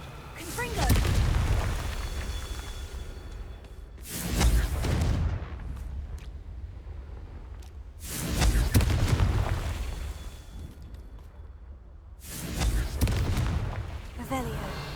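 Confringo blasting spells in Hogwarts Legacy go off as four loud, deep explosive booms spaced roughly four seconds apart, each with a rumbling tail that fades before the next, under a player's occasional speech.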